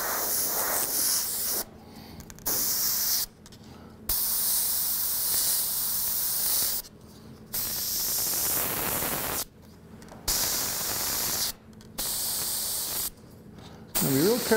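An airbrush sprays paint over a stencil in repeated bursts of close, steady hiss separated by brief pauses, with a trigger click at the start of some bursts and a voice heard near the end.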